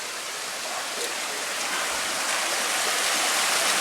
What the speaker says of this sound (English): Just going in the creek now